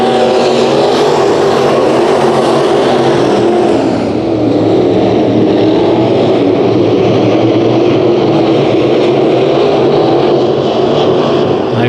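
Race cars run side by side at Bakersfield Speedway in a heat race, with loud, continuous engine roar that swells and recedes as they pass, with no talk over it.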